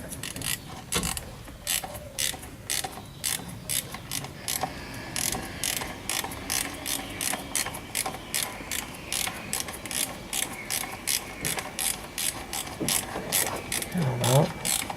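A hand ratchet tightens the thermostat housing screws on a Volkswagen Golf MK2, giving a long run of rapid, evenly spaced metallic clicks close up, with no talk.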